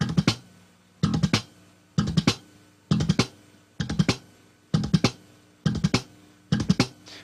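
An electric bass plays a repeating slap pattern of fast triplet bursts with percussive left-hand clicks, about one burst per second, crisp and close with no talking.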